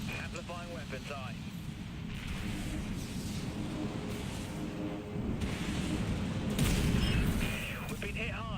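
Heavy booming impacts and rumbling explosions pound a warship in the Dreadnought game, a dense low barrage that swells louder near the end, with voices talking over the battle.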